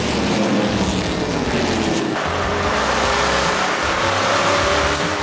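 NASCAR Canada stock cars race at Circuit ICAR in Mirabel, their engines roaring loud and close in a continuous wash of sound that shifts pitch as the cars pass.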